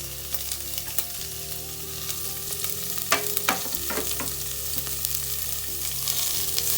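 Chopped onion with fennel sautéing in a pan for a dry peas masala, a steady close sizzle with intermittent stirring scrapes and clinks over a low constant hum.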